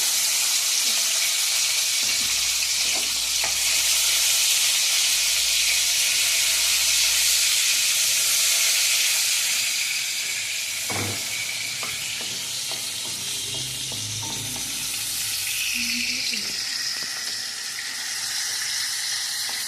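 Tomato peels fry in hot oil in a pan, a loud continuous sizzle and hiss that eases slightly partway through, with occasional stirring clicks and no talk.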